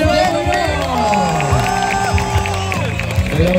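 Arena crowd at an IFSC Speed Climbing World Cup event in Chamonix cheering, whooping and clapping in a loud, steady roar, with announcer-style voices calling out over the noise throughout.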